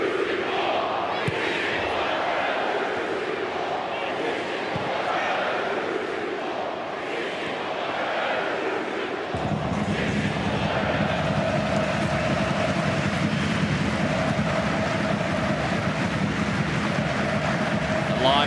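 A stadium crowd at an A-League football match between Western Sydney Wanderers and Perth Glory keeps up a loud, continuous roar, swelling into a fuller, deeper chant about halfway through.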